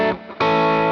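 Electric guitar pushed through a T808-style overdrive into a Matchless DC-30 EF86 amp model on an Axe Fx 3, a sustained chord fading then struck again loud and distorted, alone.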